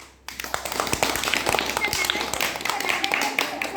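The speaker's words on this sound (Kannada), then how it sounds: "ಅಭಿನಂದನೆ ಸಲ್ಲಿಸ್ತಾ ಅವಳಿಗೊಂದು ಚಪ್ಪಾಳೆಯನ್ನು ತಟ್ಟೋಣ" Children applaud a classmate with a burst of scattered, fast hand claps that starts suddenly after a brief silence and continues fairly close and lively, with a few voices mixed in.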